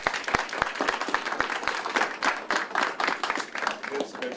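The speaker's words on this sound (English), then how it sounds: "Let's give a round of applause for our teachers." An audience at a school event applauds teachers with a burst of sharp, close handclaps. The clapping is brisk and uneven, and a voice speaks over it.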